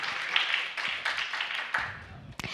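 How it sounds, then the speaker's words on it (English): A small audience at an entrepreneurship competition final gives a round of applause for the sponsors, scattered hand claps rising and thinning over a couple of seconds, fairly quiet and a little distant. "let's give the sponsors a round of applause"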